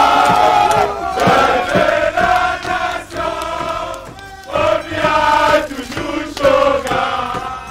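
A dense crowd cheers and chants in loud rising and falling waves as Cameroon's president Paul Biya says goodbye in Saint Petersburg, Russia.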